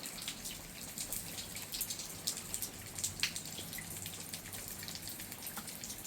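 Gentle rain patters outside while water drips from an overhang, with light uneven taps and occasional sharper drops close by against a quiet, calm background.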